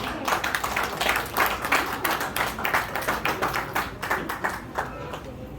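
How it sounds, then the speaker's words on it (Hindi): Audience applause at a state-level media honours ceremony in Nahan, Sirmaur, with Rotary Club presidents welcomed on stage: dense, sustained clapping from a crowd, steady and fairly loud throughout, fading slightly at the end. "तालियां बजती रहें"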